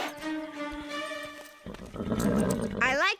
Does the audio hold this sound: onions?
no